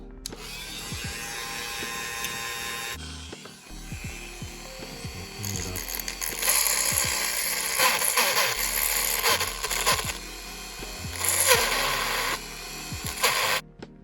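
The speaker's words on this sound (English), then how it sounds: "Alright, let's go ahead and drill." A power drill whines and grinds against the metal of a Glock 43X pistol slide in long bursts with brief pauses, loud and close, rising in intensity midway.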